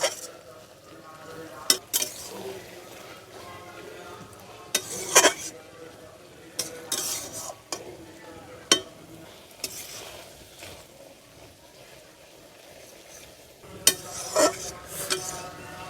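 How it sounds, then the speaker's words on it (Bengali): A spatula scrapes and clanks against a pan while fried shrimp is stirred into a taro leaf curry, irregular knocks and scrapes over a faint low sizzle, with occasional soft voices. "দিয়ে ভালো করে কচু শাকের সাথে চিংড়ি মাছটা মিশিয়ে দিলাম"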